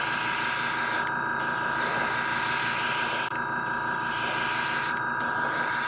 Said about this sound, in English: he says you're spraying nice